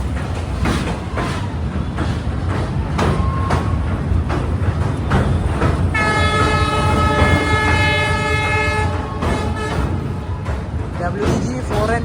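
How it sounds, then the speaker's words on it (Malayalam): Railway locomotive at New Jalpaiguri (NJP) station in Siliguri, with a loud, steady rumble throughout and a sustained, near horn blast of about three seconds mid-way, while voices are faintly audible. "ഇതാണ് ഇതിന്റെ ലോക്കോമോട്ടീവ്"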